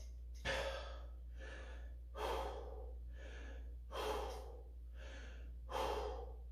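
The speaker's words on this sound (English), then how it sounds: "Couple big breaths, let's go." A weightlifter takes four big, forceful breaths before a set of double-overhand deadlifts at 455 pounds, each one a loud, close gasping inhale-exhale spaced about two seconds apart over a steady low hum.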